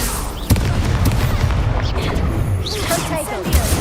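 The Confringo blasting spell goes off in Hogwarts Legacy with a dull boom, followed by a steady dense rumble of game effects and background action at fairly high volume, with a voice talking over it.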